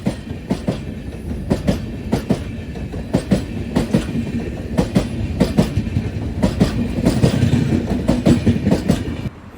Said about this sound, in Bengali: ক্রস করছে 12313 শিয়ালদা নিউ দিল্লি রাজধানী এক্সপ্রেস।